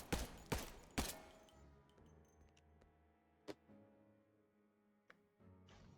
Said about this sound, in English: And just empty the gun as well. Yeah, fire to empty the mag.